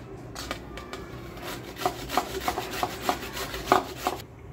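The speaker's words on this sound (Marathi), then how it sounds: "मला एक काम सोपवलं गेलं आहे, गाजर किसायचं" Carrots being grated by hand for carrot halwa, a steady close rasping scrape with a rhythmic run of strokes near the end, no talking.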